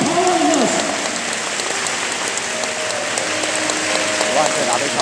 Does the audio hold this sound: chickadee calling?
no